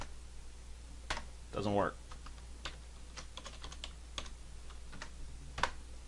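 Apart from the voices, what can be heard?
typing a password on a computer keyboard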